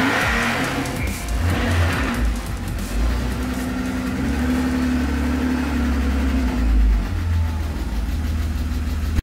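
A BMW engine with a weak battery runs steadily at idle with a brief rev partway through, close by and loud, with no talking.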